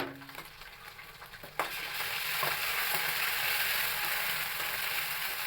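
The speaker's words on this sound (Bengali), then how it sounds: "চিংড়ি মাছটাও তেলের সাথে ভাজা হয়ে গেছে। এখন আমি দিয়ে দেবো আদা রসুন বাটা।" Shrimp frying in hot oil with ginger-garlic paste added, a steady loud sizzle that jumps louder partway through and then holds as a continuous crackling hiss, with no voices.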